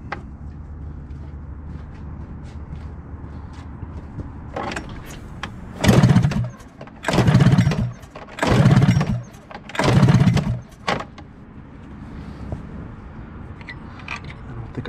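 A 1988 Arctic Cat Cougar 500 snowmobile, rusty and long unused, is pull-started four times in a row, each hard recoil yank a loud roughly one-second burst over a low background rumble; the engine does not catch.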